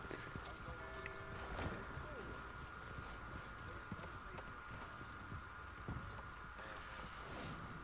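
Steady clip-clop of a horse's hooves at a walking pace in the video game Red Dead Online, with a constant background hum and occasional speech-like sounds mixed in.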